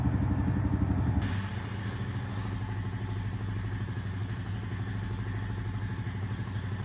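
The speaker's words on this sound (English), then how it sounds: "Here, the ATV is pre-programmed to drive forward at full speed for a predetermined distance." A Honda FourTrax Rancher ATV drives forward at full speed under autonomous control, its engine a steady droning rumble with rattling clatter, louder at the start and then holding an even level.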